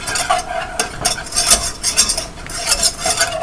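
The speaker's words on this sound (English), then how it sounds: "like I have my little spoon, put it in, mix it up" A small spoon stirs a flour roux in a pan for soup or gravy, making repeated scraping and clinking strokes against the metal in an irregular rhythm, close and fairly loud, with no voices.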